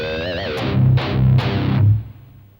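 A distorted electric guitar plays a short heavy metal riff, a pinched harmonic squealing at the start before low chugging palm-muted notes, close and loud, then a ringing decay.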